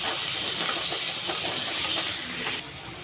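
Finely chopped onion sizzles in a pan with cooked dal for bun dosa, a steady bright hiss that drops noticeably in level near the end.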